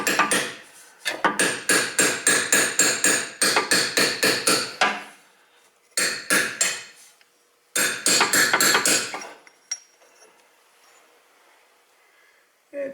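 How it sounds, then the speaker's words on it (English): Repeated metal-on-metal strikes from a small body hammer working on a rear wheel bearing of a Subaru WRX STi, loud close blows in rapid bursts separated by short pauses, no talk. "I'm just using a little body hammer here"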